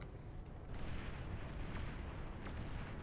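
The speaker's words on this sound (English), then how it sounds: "I can hear the nuke sound going off." A nuclear explosion goes off in a video game, heard as a loud, continuous low rumble that swells after the first second and holds steady, with no talking over it.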